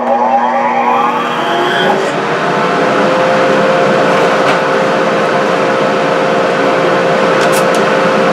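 A workshop dust collector starts up and settles into a loud, steady whine. A rising tone climbs in the first couple of seconds before it levels into a constant drone.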